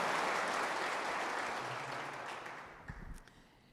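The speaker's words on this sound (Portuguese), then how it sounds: "Nem precisava desse aplauso." A church congregation applauds during a sermon. The broad wash of clapping starts full and steadily fades, thinning out near the end with a few scattered claps and a low thump.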